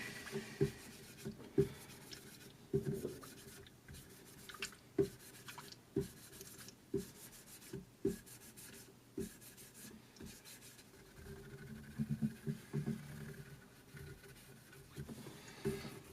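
Quiet cloth rubbing oil into a Squier Vintage Modified Jazzmaster guitar, with soft intermittent strokes and small taps close by, no voices.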